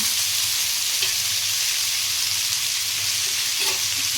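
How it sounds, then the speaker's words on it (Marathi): Onion frying in oil in a pan for a Konkani-style chicken gravy, giving a steady, dense sizzle with occasional soft stirring clinks, close and continuous with no talking. "मी याच्यामध्ये तेल घालून घेते आणि पूर्ण चांगलं परतून घेते"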